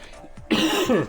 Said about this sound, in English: Oh no, it's back. The coughing is back.